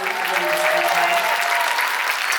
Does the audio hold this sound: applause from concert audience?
yes